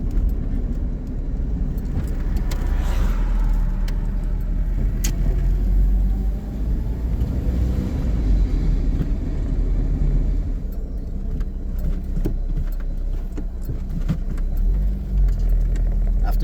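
An Austin Princess drives along at about 30 mph in fourth gear. Its engine hums low and steady from inside the cabin, with road rumble and a light rattle underneath, and there is no speech.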